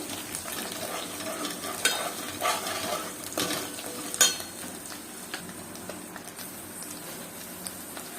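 Mutton seasoned with turmeric and salt fries slowly in a pan over a low flame, a steady soft sizzle broken by the scrape and clink of a stirring utensil.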